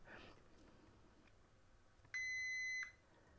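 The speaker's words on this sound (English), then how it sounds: "anything grounded on here should beep" A continuity tester probing the grounded pins of a Kindle Paperwhite during a battery repair gives one clean, steady electronic beep lasting under a second after a quiet pause.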